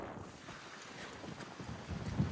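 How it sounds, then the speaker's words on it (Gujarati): Strong wind at a beach buffets the microphone in low, rough gusts that swell toward the end, with no one talking. "પવન છે જોરદાર"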